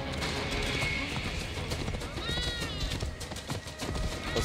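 Rapid hoofbeats of a galloping horse in Assassin's Creed Origins clatter steadily, with a brief whinny partway through, under busy game background sounds.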